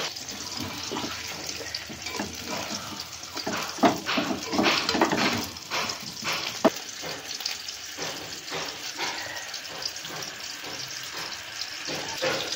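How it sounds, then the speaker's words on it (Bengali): Hot water is poured into a pot of mutton curry with fried potatoes and whisked yogurt, giving a steady, fairly soft splashing pour with a few louder gurgles and no voices. "গরম জল করে রেখেছিলাম, আমি গরম জল দিয়ে দিলাম।"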